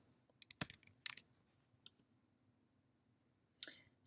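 Computer mouse clicks in a quiet room as a library website is searched, a few close, sharp taps in quick clusters, then a pause and one more click, with no voices.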